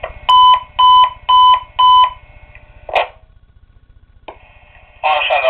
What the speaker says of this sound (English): Page on right is A through C setting, which is long beep on bell mode.